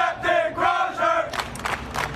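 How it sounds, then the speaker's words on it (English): Navy ship's crew cheering and chanting for their departing captain, a loud crowd shouting in rhythmic bursts followed by rising cheers and whoops. "this video circulated online showing supportive crew members cheering Crozier as he departed the ship"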